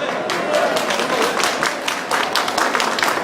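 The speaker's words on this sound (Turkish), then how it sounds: "Alkışlar az geldiğine göre bir problem var arkadaşlar." An outdoor crowd at the Giresun festival gives a loud round of applause, with many hands clapping unevenly and some individual claps standing out, and voices in the crowd underneath.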